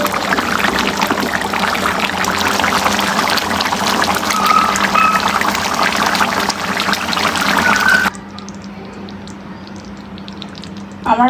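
Cooked curry poured from a pot into a dish: a continuous loud, rushing liquid pour that stops abruptly, leaving quiet background and a faint clink at the end.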